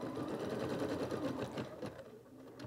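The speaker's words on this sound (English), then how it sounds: "And we'll bring our hoop back over to the embroidery machine." An embroidery machine stitches a chick outline onto felt held in a hoop, making a steady, close, rapid mechanical stitching whir with no pauses.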